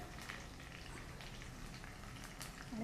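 Three or four curry leaves frying in a desi tadka for jowar noodles, producing a steady, soft crackling sizzle with faint pops that runs unbroken throughout, low in level and alone.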